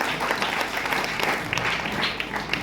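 An audience at a gathering honouring a guru's secretary and assistant applauds, dense clapping from many hands that keeps going steadily throughout, close and fairly loud, with a faint murmur beneath.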